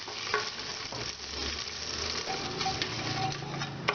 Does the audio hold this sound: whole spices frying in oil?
yes